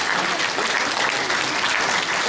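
Congregation at a church's 25th anniversary celebration in Kathmandu clapping during a gift presentation, a thick, continuous burst of applause from many hands, loud and even throughout.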